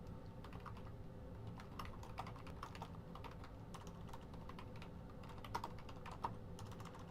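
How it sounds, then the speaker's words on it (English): Fast, uneven typing on a computer keyboard during live severe weather coverage, a steady run of light clicks with a couple of sharper keystrokes, alone over a low background hum. "Man, I can't type at all on this."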